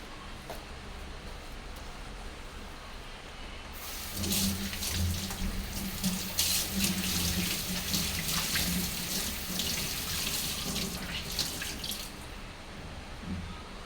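Tap water running into a sink while dishes are washed, starting abruptly after a quiet stretch, a steady splashing hiss with clatter, then cutting off near the end.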